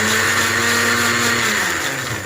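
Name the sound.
blender blending seaweed with water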